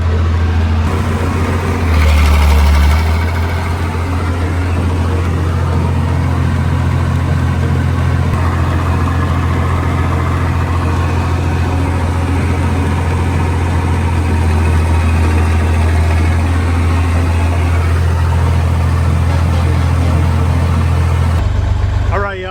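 A John Deere 4240 tractor engine drones steadily and loudly up close while cutting hay in a field, a low rumbling hum that barely changes for the whole stretch.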